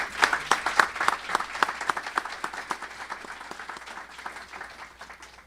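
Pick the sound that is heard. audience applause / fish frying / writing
audience applause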